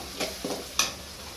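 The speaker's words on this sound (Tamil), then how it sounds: "போட்டு லைட்டாக வணக்கிக்கலாம்" Brief sizzling bursts from masala powder and turmeric frying in a hot pan for onion chicken gravy, with a couple of stirring scrapes, close up and fairly quiet, no talking.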